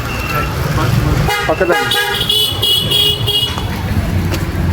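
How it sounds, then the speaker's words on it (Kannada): An old vehicle honks its horn on a roadside during rain, the toots sounding close and loud over steady traffic noise, with a person speaking over it. "ನೋಡಿ, ಯಾವುದೋ ಹಳೆಯ ಗಾಡಿ ಅನ್ಸುತ್ತೆ."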